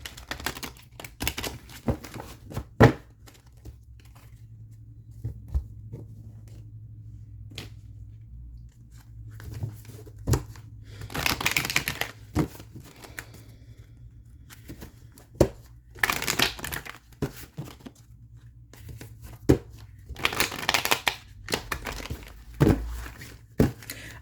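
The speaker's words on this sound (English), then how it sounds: "so there's one more shuffle" Tarot cards being shuffled by hand, with bursts of crisp riffling and shuffling separated by quieter stretches over a low steady hum, close and fairly soft, with no talking.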